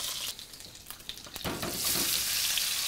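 Onions softening in a pan, a soft steady sizzle that grows louder and fuller after a sharp clatter midway.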